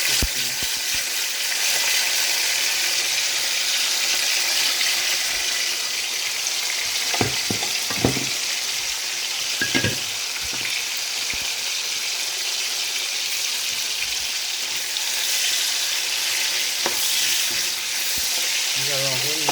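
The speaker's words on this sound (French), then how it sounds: "dans cette huile, nous allons verser" Chopped onions fry in hot oil for a chicken and potato roast, giving a steady, close sizzle with a few sharp scraping clicks as they are stirred. No one speaks.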